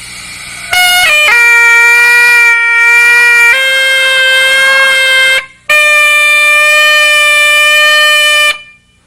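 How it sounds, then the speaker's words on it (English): An unstable bagpipe chanter reed sounds loud, sustained reedy notes that step up and down in pitch, with one brief break before the tone resumes and then cuts off. "A chanter reed that is unstable,"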